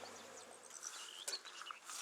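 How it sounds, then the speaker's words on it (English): A swarm of honey bees flies around a hive, a faint buzzing drone with scattered nearer passes of individual bees, quiet and close to the background, with no talking. "Quite a lot of bees on here."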